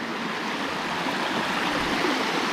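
A wide, gently flowing waterfall stream with a weak current gives a steady, soft rush and hiss of water, continuous and moderately close, with no talking.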